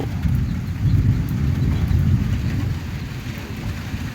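Storm with strong wind and rain, with hail falling, a dense steady roar of rain and gusting wind, loud and continuous without any speech.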